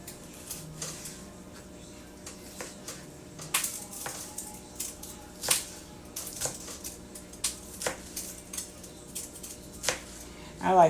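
A knife cuts up a green pepper on a cutting board, giving irregular sharp taps and crisp chops at close range over a quiet background, with no speech.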